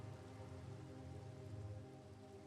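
Rain in modded Minecraft, a soft steady patter of falling rain with a faint low hum beneath, fairly quiet and continuous, no talk.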